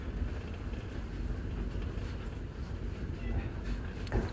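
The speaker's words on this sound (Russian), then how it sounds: "А вот он и перрон." A train at a railway station platform in Kherson, a continuous low rumble and wind-buffeted hum with a brief louder thump near the end, heard from close by on the platform.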